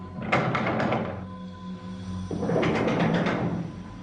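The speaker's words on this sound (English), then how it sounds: "Something just knocked on the door." Knocking on a bathroom door during a nighttime ghost hunt: two clusters of rapid, hollow raps about two seconds apart, close and fairly loud in a quiet room.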